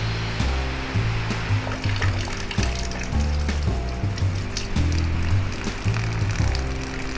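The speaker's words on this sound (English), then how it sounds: "Did I mention it was pouring down rain?" Heavy rain pours steadily at a harbour with classic wooden boats, a dense, close hiss over low rumbling, with irregular thumps and bumps mixed in.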